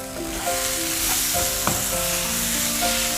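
Fried Kakinada royyala prawns sizzle steadily in a pan just off the flame as lemon is added and everything is stirred, a close, constant hiss with light scraping of the spoon and no talk.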